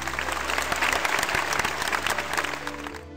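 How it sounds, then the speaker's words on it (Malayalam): Audience applause opening the third, semi-final level of a stage competition: a dense, steady clatter of many hands clapping together throughout, fairly loud and sustained without a break. "നല്ലൊരു കയ്യടിയോടുകൂടി നമുക്ക് ആരംഭിക്കാം."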